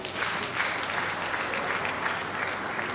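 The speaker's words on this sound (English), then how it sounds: "the presenter deserves another round of applause" A hall of professional accountants applauds a presenter: sustained, even clapping from many hands at a steady moderate level, with no clear pauses.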